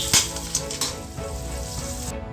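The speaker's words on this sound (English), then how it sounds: "I'm not going to brown the onions. I'm just going to allow it to cook for a while until it turns" Chopped onions fry in a pan for palak paneer, giving a steady close sizzle with a few light clinks and stirring taps throughout, no voices.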